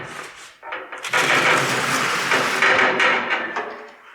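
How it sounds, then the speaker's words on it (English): A 1956 Chevy hood slides across cardboard in a garage: a few short scrapes, then a sustained loud rough scraping that rises and fades over several seconds, with no talking. "slide on the cardboard"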